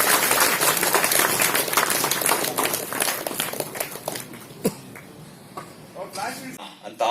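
An audience gives loud, sustained applause at a Kannada Shri award ceremony, the claps dense at first and thinning out toward the end, with some voices mixed in.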